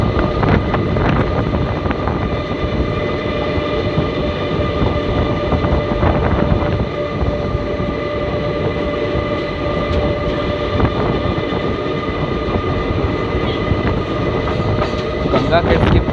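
Inside an ICF coach of the Indian Railways 11405 Pune–Amravati Express, the train runs with a loud, steady, continuous rumble, overlaid with rushing wind noise and faint rattling.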